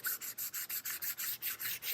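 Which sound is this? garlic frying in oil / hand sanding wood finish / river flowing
hand sanding wood finish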